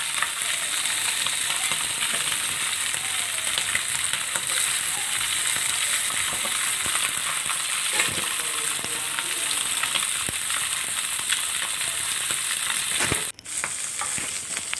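Fish frying in a pan, a loud, steady sizzle that runs without a break for the whole stretch, with a brief clatter near the end and no talking.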